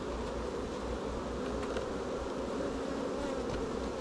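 Honey bees swarm around an opened hive during a honey harvest, a dense, steady buzzing drone that fills the whole stretch close to the microphone, with no talking over it.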